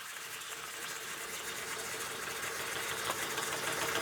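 An Empire B-42 model steam engine runs with its coupling loosened, turning anti-clockwise and giving a steady, continuous mechanical whir and hiss at close range with no voices.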